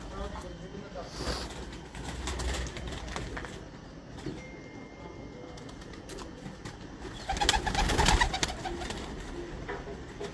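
Pigeons coo on a Lahore rooftop, soft repeated calls amid flutters and background activity, while someone talks over them throughout with a louder burst near the end.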